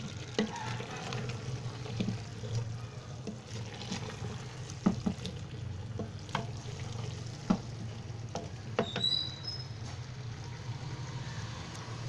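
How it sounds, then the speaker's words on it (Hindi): Potatoes and fenugreek leaves (aloo methi) roast in a pan with a steady low sizzle, broken by occasional sharp scrapes and clicks from stirring. No one talks. "ये देखें हमने इसको अच्छी तरह से भून लेना है।"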